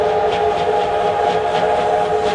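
A steam train on Melbourne's elevated Flinders Street Viaduct sounds a loud, steady whistle that holds throughout, with the rumble of the passing train underneath.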